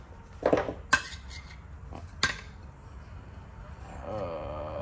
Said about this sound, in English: I still gotta take the lug nut covers off